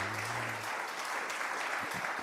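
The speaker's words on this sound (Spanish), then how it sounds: "Le damos un aplauso de bienvenida a estos hermanos" A church congregation claps in welcome for visiting brethren from Ecuador, an even, sustained patter of many hands heard briefly from within the room.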